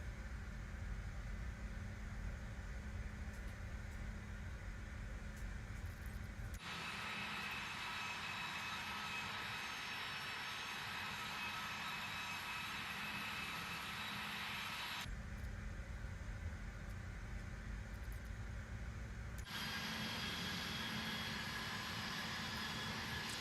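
Steady engine thrust of a CRJ jet in Microsoft Flight Simulator 2024, a continuous broadband roar and whine that shifts character between sections, with no voices.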